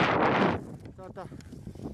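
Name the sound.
strong wind on Mont Blanc summit ridge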